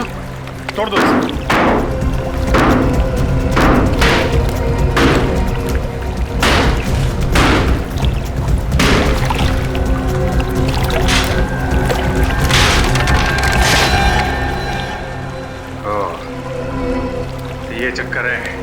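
Heavy, irregular thuds and crashes from digging into and smashing open a water tank, loud and close, with shouting voices throughout.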